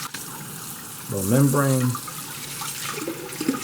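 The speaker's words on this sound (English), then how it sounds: "I can stop wasting my running water if I want" A kitchen tap runs in a steady, hissing stream while a pomegranate is being deseeded into a bowl, close by, with a person talking over the flow.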